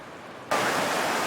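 Steady broadband rush of creek water flowing, starting abruptly partway through and continuing loud and close without other sounds.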